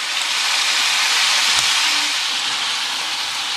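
Wood pigeon pieces cooking in a pan with thick beaten Greek yogurt give off a steady, close, even sizzle and hiss, with a faint soft tap partway through.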